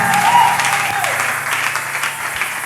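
A church congregation claps and cheers in a dense, steady burst of applause, with a raised voice briefly rising above the crowd near the start.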